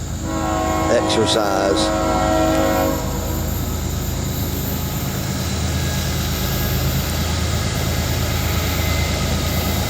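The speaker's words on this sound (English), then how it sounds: "Another loaded CSX Coal train coming up the hill" A loaded CSX coal train climbing a grade, led by a pair of ES44AH and ET44AH locomotives, sounds its horn in a few short blasts before a continuous, heavy rumble of engines and rolling cars; a brief voice is heard.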